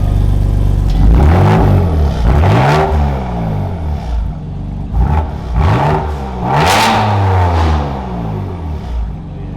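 A BMW M4 Competition with an AWE SwitchPath exhaust, valves closed, revs repeatedly at close range, each loud, rumbling rise in pitch swelling and falling away across the run with no talk.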